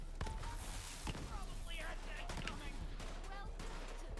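Gunfire shot from the hip in Borderlands 3, a few sharp bursts and rapid shots over steady game noise, fairly quiet overall, with a person talking over it.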